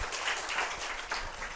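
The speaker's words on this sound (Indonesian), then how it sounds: "Kasih tepuk tangan buat jemaat yang luar biasa" A church congregation claps in a brief, dense burst of applause, even and moderately loud throughout.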